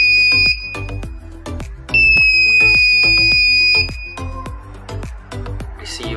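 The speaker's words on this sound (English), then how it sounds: "until it confirms with a long beep." A Sherlotronics Rx1-150 receiver gives a long, steady electronic beep lasting about two seconds, clear and close, set among a repeating pattern of sharp clicks.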